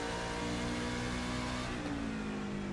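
A race truck engine roars at Richmond in the iRacing simulator, a steady loud mid-pitched drone with a slight upward pitch sweep partway through, no voices.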